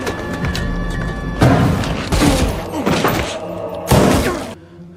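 Grenade blasts and heavy impacts from a raid scene in a film, a run of loud booming thuds and crashes that come in several bursts over a few seconds before the sound drops off.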